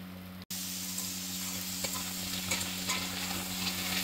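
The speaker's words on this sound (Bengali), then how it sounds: "এবারে হালকা সিদ্ধ করে রাখা আলুটা তেলের উপরে দিয়ে দেবো।" Parboiled potatoes fry in oil with ginger and green chili paste, giving a steady, close sizzle. The sizzle cuts out very briefly near the start, then continues evenly with faint crackles and no talking.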